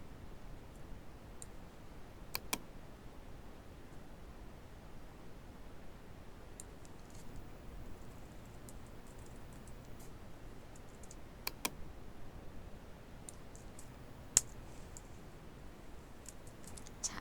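Sparse, faint clicks of a computer keyboard and mouse during Photoshop editing, a few sharper taps scattered over a steady hiss, with no talking.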